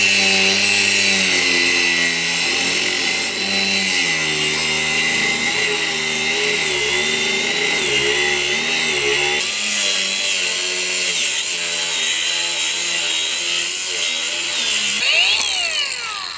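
A power tool cutting rebar on an off-grid carport build site, a loud sustained whining grind with shifting pitch running throughout, with a brief change in tone near the end.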